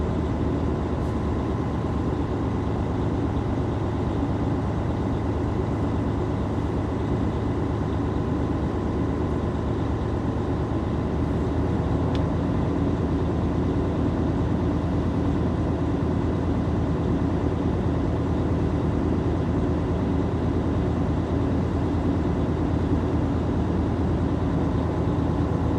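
A truck engine is held at about 1,000 RPM to build air brake pressure during a pre-trip cab inspection, giving a steady, low, unchanging hum that lasts the whole stretch with no speech.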